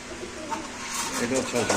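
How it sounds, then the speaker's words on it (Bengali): Pigeons coo repeatedly at a busy pigeon market, soft rolling calls rising and falling amid crowd murmur and nearby talk. "মাথা নষ্ট অফারে কবুতর কিনুন আমাদের প্রাণ প্রিয় আদনান ভাই থেকে"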